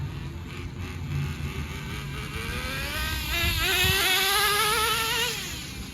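An HPI Racing RS4 3 Evo RC car engine runs on a home field, a buzzing motor whine that rises in pitch as it revs up and then eases off, fairly close and with no talk over it.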